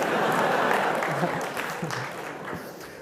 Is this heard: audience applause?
yes